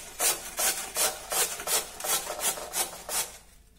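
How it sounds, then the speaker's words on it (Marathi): A potato is grated by hand on a kitchen grater, heard as about ten steady, evenly spaced rasping strokes, each a short scraping burst, close and clear with no talking. "सर्वप्रथम किसणीवर बटाटा किसून घेऊया।"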